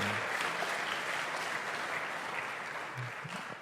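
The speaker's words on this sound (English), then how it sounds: "I'm not sure you needed to applaud that," Steady applause from an audience at a jazz band competition, a dense wash of clapping that holds throughout and eases slightly toward the end.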